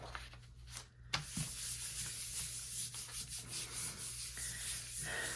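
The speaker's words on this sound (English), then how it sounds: "So I'm giving it a nice rub." Paper being rubbed down by hand onto a gel press printing plate that still has string laid across it, giving a steady close-up scratchy rubbing and sanding sound with repeated strokes and no talking.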